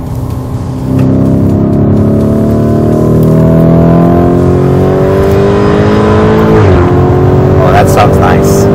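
Lamborghini Urus engine in sport mode on a track warm-up lap, a loud, close, steady drone whose pitch climbs as it accelerates, with a brief gear-change dip, under talk.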